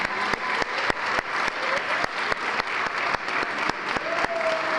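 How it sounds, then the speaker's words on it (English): Audience at a school academic awards ceremony claps for student award winners, a dense, sustained round of applause with crisp, loud individual claps punctuating it throughout. "if you could give them a huge round of applause for being here every day"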